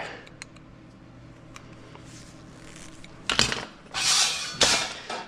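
A sheet-metal scribe tool is retightened, giving light ticks and clicks that build into a few louder metallic ratcheting bursts toward the end, close up.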